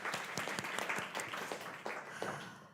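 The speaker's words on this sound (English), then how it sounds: "another applause for Liliana" Small audience at a women-in-tech event claps for a speaker, a modest round of distinct, fairly quiet claps that taper off toward the end.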